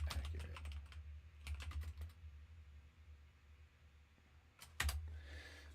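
Computer keyboard typing comes in short bursts of quick clicks separated by quiet pauses, close and fairly soft, with a faint low hum underneath and no talk.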